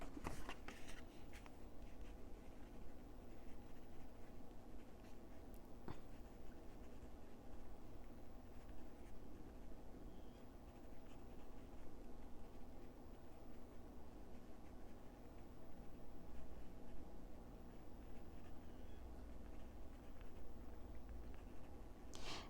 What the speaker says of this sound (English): I have to write that down.